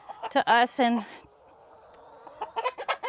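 A flock of chickens clucks in short bursts at close range, mixed with a person talking, then goes quieter before a fresh round of clucking near the end.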